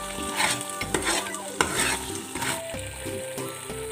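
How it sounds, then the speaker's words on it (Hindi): Flour is stirred and roasted in a pan while making homemade desi ghee, giving a steady sizzle under repeated scraping and clinking of a spoon against the pan. "मिक्स करने के बाद इसको भुने जब तक ये ब्राउन ना हो, तब तक आप इसको भूनते रहें"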